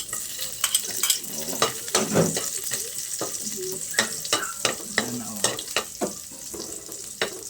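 Spices sizzling in hot cooking oil for a meat and vegetable soup, a crackling fry heard close up, punctuated by repeated scraping stirs and occasional clinks of a utensil against the pan.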